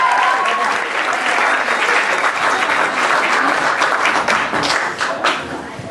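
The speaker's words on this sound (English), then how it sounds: "Clap as JP comes to the mic." Applause from a live event audience as a performer named JP walks up to the microphone, a dense, steady wash of many hands clapping throughout, loud and continuous with faint crowd murmur beneath.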